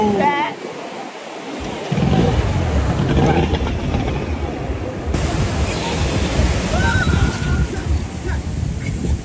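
Choppy ocean waves rush and splash around a small boat off Abokwa Island in Busua, a loud continuous wash of water with engine and wind noise.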